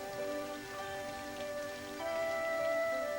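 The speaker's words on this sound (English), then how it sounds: "the grasshopper is sitting sadly in the rain." Rain falling in a children's story scene, a faint steady patter under sustained tonal music notes, calm and continuous with a slight swell near the end.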